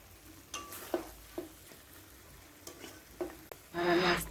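Chicken tehari with sugar cooks gently over low heat, a quiet sizzle under repeated scraping stirs and clinks of a spoon against the pot, ending in a louder burst of frying.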